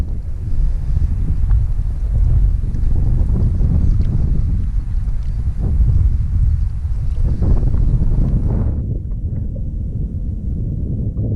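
Strong wind buffeting the microphone out on a lake while fishing, a loud continuous rumbling roar that eases slightly near the end, with no talking.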